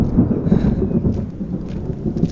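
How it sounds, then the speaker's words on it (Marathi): Thunder rumbles and crackles nearby during heavy monsoon rain in the Konkan, a continuous low roll over the steady hiss of the downpour. "नुसतं बाजूला कडकडाट होतोय"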